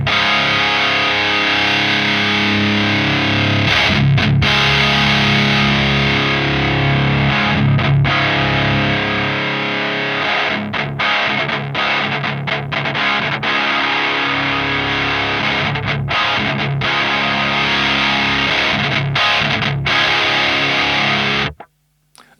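Electric guitar through a Lichtlaerm Audio Ritual distortion pedal with active bass and treble shelving EQ, loud saturated chords and riffs with short stops, playing for about twenty seconds before cutting off abruptly.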